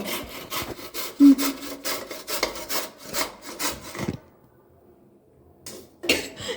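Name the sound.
grating a carrot for carrot halwa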